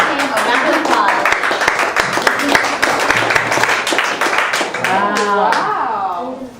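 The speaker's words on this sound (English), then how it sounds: "let's give him a round of applause" An audience at a cooking demonstration gives a round of applause, a close, irregular patter of claps that thins out toward the end as a voice begins speaking over it.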